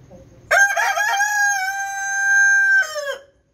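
A rooster crows once, loud and close, with a long sustained call of about two and a half seconds, standing alone with no other sound around it.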